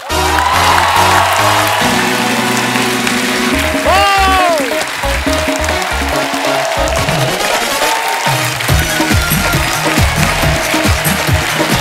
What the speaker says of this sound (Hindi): तो आप सबकी जोरदार तालियों के बीच बुलाते हैं इस शो के होस्ट को।